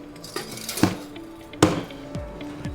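A whisk working through melting cheese sauce in a pot, metal clanking and scraping against the pot in a few sharp knocks with a rattling stir between, close and alone.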